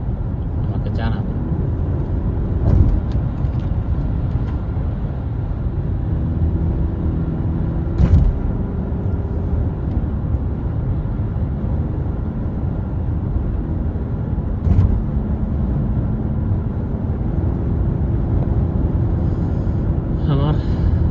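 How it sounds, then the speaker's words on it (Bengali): A car driving on a highway at around 140 km/h, a steady loud road and engine rumble with occasional thumps, while someone talks over it. "গাড়ি চলে এখন 140,"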